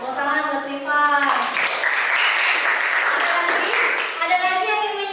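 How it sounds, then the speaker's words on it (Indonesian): Classroom applause for a student who has just read a critical response text, a burst of clapping from the class lasting several seconds, with voices talking before and after it. "Iya, tepuk tangan buat Rifan."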